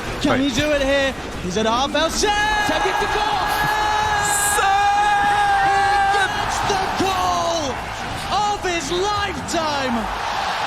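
An esports crowd at The International Dota 2 finals yells and chants a player's name in unison, loud sustained voices in rhythmic waves with cheering bursts.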